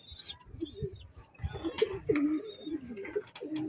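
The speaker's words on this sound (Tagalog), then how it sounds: "At ayun yung iba nating kalapate." Pigeons coo softly nearby in a stretch of low, rolling warbles and gurgles, with a few faint higher chirps and rustles around them.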